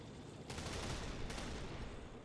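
Gunfire striking tanks in a Call of Duty World War 3 mod battle, a sustained dense rattle of automatic fire in two swelling bursts, distant and muffled, no voices.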